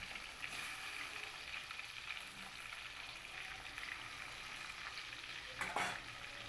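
Rohu fish pieces frying in oil make a faint, continuous sizzling hiss throughout, with one brief louder crackle near the end and no voices.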